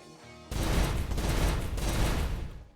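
Burst of gunfire in Kriegsfront Tactics, a sudden loud volley of rapid shots that runs for about two seconds as a dense rattling fusillade and then cuts off, with no talking.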